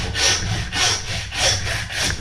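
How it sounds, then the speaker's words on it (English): A hand saw cuts through a pork shoulder with rhythmic back-and-forth sawing, four steady strokes with a rasping, scraping texture, close up and alone without talk. "we're going to take our saw, and we're going to saw through"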